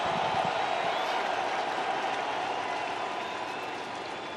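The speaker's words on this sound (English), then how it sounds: "The crowd comes alive." Stadium crowd at a Pirates vs Cardinals baseball game cheering and clapping as the first pitch of the season approaches, a broad continuous roar that stays loud and slowly eases off, with possible talk beneath.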